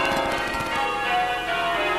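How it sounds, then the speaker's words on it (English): Church wedding bells chime in a bright, sustained ringing wash with overlapping tones that hang in the air. "as the wedding bells chimed out"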